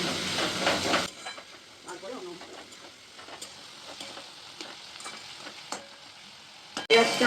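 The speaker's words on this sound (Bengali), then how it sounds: "এটা এখন ভাজতে হবে, পেঁয়াজটা লাল লাল করে ভাজতে হবে।" Chopped onion fries in a pan with bay leaves and a pinch of sugar for a mutton curry, sizzling steadily while a spoon stirs, with louder bursts at the start and end.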